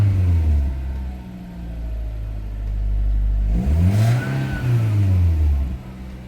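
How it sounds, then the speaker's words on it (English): A JDM car at an auction yard in Osaka, sitting with a very low fuel level, idles with a deep, steady rumble, then gets a few quick throttle blips that rise and fall in pitch, close up and loud. "Let's give it a little rev."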